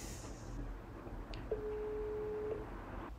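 A phone call to an O2 number rings through to the mailbox, a single steady tone lasting about a second at low volume, heard over a faint background hiss.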